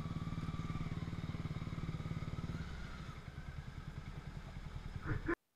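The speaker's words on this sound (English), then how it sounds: "how to turn off an engine on a bike" A motorcycle engine idles close by with a steady, throbbing rhythm, then shuts off abruptly, leaving silence.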